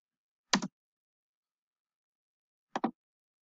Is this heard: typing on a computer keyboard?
yes